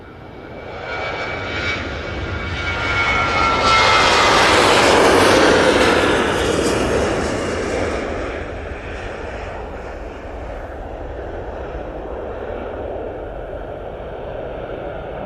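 A TUI jet airliner rolls for takeoff at Manchester Airport, its engine roar building over several seconds to a loud broadband peak, then fading back to a lower, steady rumble.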